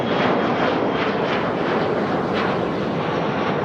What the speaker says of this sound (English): Yeah, that's Air Canada E170 headed to Columbus.